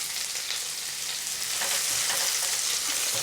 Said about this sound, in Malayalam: ഒരു മീഡിയം ഫ്ലെയിമിൽ വേണം നമ്മളിതൊക്കെ ഒന്ന് ഫ്രൈ ചെയ്യാനായിട്ട്